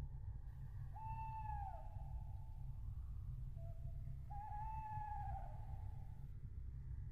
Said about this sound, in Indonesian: hanya terdengar suara burung hantu dari arah hutan